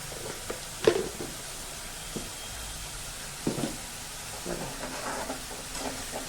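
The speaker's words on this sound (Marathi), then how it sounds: "मस्त तेल सुटेपर्यंत हे छान असं परतवून घ्यायचं" Spiced potato curry being stir-fried in hot oil, with a soft continuous sizzle and several brief scraping stirs of a spoon against the pan, close by and fairly quiet.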